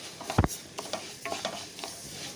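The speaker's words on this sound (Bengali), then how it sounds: "ডালটা এখন নাড়াচাড়া করে একটু লাল করে ভেজে নিচ্ছি" Lentils stirred and dry-fried in a kadai on a gas stove, with a few sharp spatula scrapes and knocks against the pan over a faint, steady sizzle.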